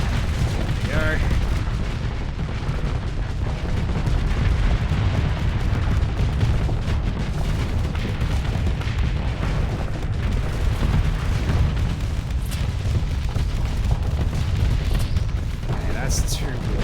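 Missile explosions in the space combat game Starsector keep up a steady, loud barrage of booms and blasts, dense and continuous under a low rumble, with a voice talking over them.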